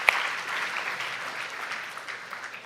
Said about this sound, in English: Let's have a round of applause for all participating schools.